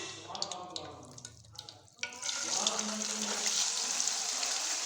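Chicken liver dropped into hot oil in a wok, with a sudden burst of loud, steady sizzling and crackling that continues after a quieter start with clinking.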